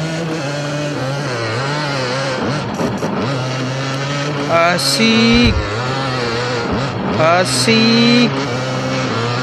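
A cartoon motocross motorcycle, a loud steady engine drone with rising revs and brief whining surges as it rides, while young voices call out excitedly over it.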